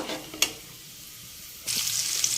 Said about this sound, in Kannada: ಇವಾಗ ನಾನು ಆನಿಯನ್ ಮತ್ತು ಚಿಲ್ಲಿನ ಹಾಕ್ಕೊಂಡಿದ್ದೀನಿ ಚೆನ್ನಾಗಿ ಫ್ರೈ ಹಾಕಿ